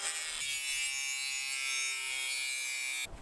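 A power tool cuts square steel tubing while building a knifemaker's belt grinder, a loud, continuous high-pitched grinding whine that starts abruptly and stops after about three seconds.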